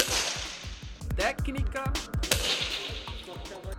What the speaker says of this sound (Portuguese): Esse é o tiro esportivo.